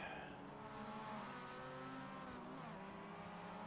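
Race cars in an MX5 Cup sim racing game at Sonoma, a steady engine drone with shifting revs and a tire squeal or two, heard at constant loudness without talk.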